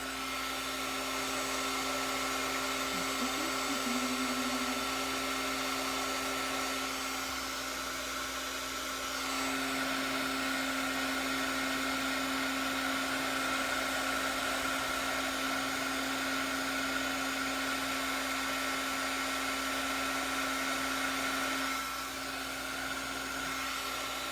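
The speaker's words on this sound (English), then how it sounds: "This is my favorite part, is the heat embossing." Heat gun blowing hot air to emboss a handmade card, a steady loud whirring drone held for over twenty seconds with slight shifts in pitch, no speech.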